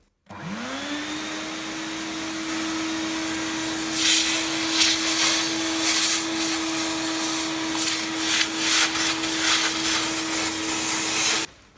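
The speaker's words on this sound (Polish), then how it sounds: "zwykłego odkurzacza. Mam taki, takiego Philipsa, który ciągnie całkiem dobrze" A Philips household vacuum cleaner runs continuously with a steady motor whine, sucking up dust with intermittent rattling bursts of debris; it is close, loud and alone, starting at once and cutting off abruptly at the end.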